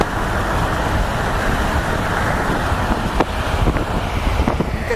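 Loud, steady rush of wind buffeting through an open car window while driving up into the mountains in Greece, with road roar underneath and a few faint knocks.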